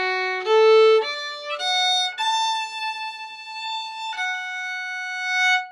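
An instrument plays a slow phrase of a waltz, a handful of clear sustained notes stepping upward and holding on a high A, solo and close with no talking.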